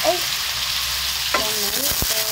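Sizzling onions and garlic in a pan as tomato goes in, a steady frying hiss with a couple of stirring scrapes and brief voice sounds.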